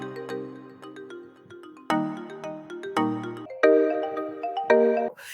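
Mallet tones from an Afrobeat plugin play a short melodic run of struck, ringing notes with clear harmonics, each decaying quickly, arriving in small clustered groups with no voices.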